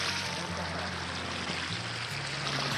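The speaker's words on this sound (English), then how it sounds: "This is the Rio Grande River at the hot springs." The Rio Grande flows past the hot springs in Big Bend National Park with a steady, close rushing wash of water and a low hum running beneath it.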